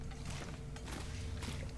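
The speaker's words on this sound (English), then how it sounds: "that is just a very noisy vehicle coming past in the street here" A very noisy, tractor-like vehicle rumbles past in the street outside, a loud, continuous broadband roar with low churning that never lets up.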